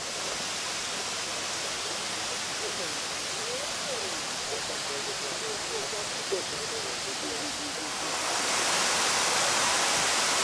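Rushing water from a waterfall in Charleston roars steadily as a broad hiss, with a voice speaking faintly underneath; the rush grows louder toward the end.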